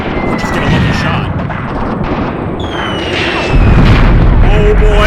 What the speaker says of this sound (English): He took a direct hit there, guys. An absolute direct hit of artillery.